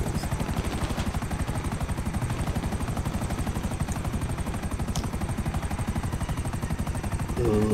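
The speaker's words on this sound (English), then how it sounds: "Ooh, chopper's going down." A GTA 5 Online helicopter going down, its rotor beating in a fast, loud, even chop throughout, with a brief sharp crack midway and a heavier burst at the very end.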